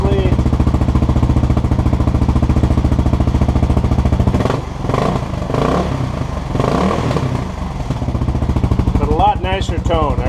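A 2015 Kawasaki KLR 650 single-cylinder with a Lexx exhaust held at about 4000 RPM, giving a loud, steady, throbbing drone with a brief fluctuation midway, close by and without talk.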